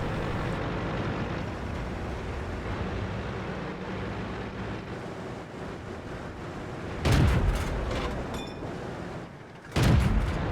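Tank guns boom in a World of Tanks battle on the Sand River map, two sharp, heavy blasts standing out above a steady rumble of engines and ambience.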